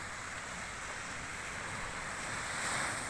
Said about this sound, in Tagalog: Yun lang, mataas ang alon.